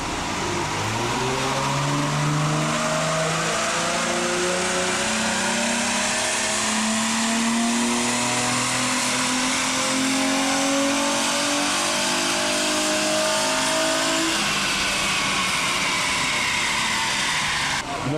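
A 20-year-old Nissan 350Z strapped down on a dynamometer, its engine revving loudly and steadily climbing in pitch through a long pull for about fourteen seconds before easing off.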